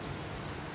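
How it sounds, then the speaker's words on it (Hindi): Steady morning rain falls in Allahabad, a dense, even hiss of drops that holds at the same level through a brief moment with no voices. "बारिश हो रही है।"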